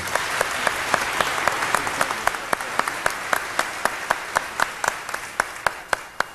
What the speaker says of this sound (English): Let's have a round of applause for Bill Mercer.